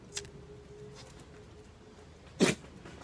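A single short sneeze bursts out once, fairly close, against a quiet room background with no talking.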